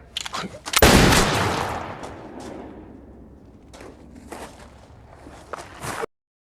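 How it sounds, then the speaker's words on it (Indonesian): Gunfire from a pistol duel in a John Wick film: a loud close shot with a long ringing tail, followed by scattered sharper cracks and thuds, with no talk. "Dalam ronde ketiga, Ken menembak John tepat di perutnya, sedangkan John sama sekali belum sempat menembak"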